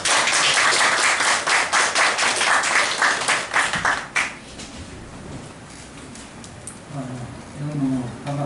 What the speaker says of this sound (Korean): 나오실 때 큰 박수로 환영하겠습니다.